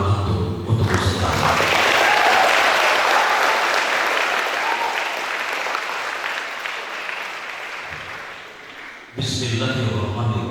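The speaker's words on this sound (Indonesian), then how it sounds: "berikan tepuk tangan antum untuk peserta." Audience at an Islamic boarding school event applauding participants during a spiritual motivation session, a loud sustained burst of clapping that swells then slowly fades, a voice speaking briefly at the start and the end.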